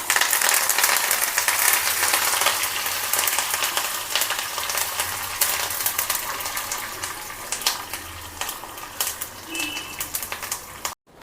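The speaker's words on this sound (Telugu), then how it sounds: "పోపు వేసేద్దాం తొక్కలు." Dried red chillies and curry leaves hit hot oil for a tempering and set off a loud, crackling sizzle. It is dense with sharp pops and slowly settles over about ten seconds.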